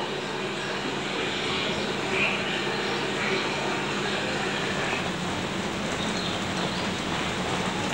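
Heavy rain pours steadily over a giant panda habitat, a dense, even hiss filling the whole stretch at moderate level with no pauses and no voices.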